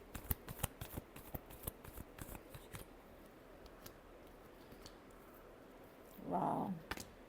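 A deck of tarot cards is shuffled by hand, a run of crisp, quick riffling snaps up close that thins into scattered soft ticks, followed by a short, low muffled rustle near the end.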